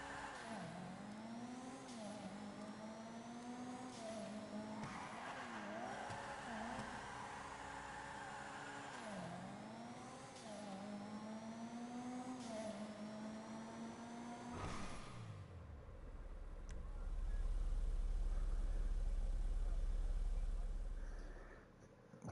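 An off-road vehicle drives in GTA V, its engine whining and rising and falling in pitch as it revs repeatedly, before a loud low rumble swells near the end.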